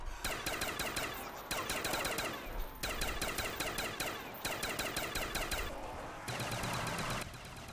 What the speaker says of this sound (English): Pretty funny guns, the dual-wield CZ75s, especially pack punched. They're pretty much just like the PM63s, but they shoot slower.